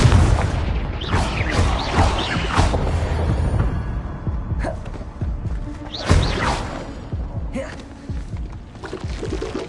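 Repeated Confringo blasting-spell explosions in Hogwarts Legacy: several booming bursts with whooshing tails, some close together early, then another strong blast later, loud against a busy game-combat background.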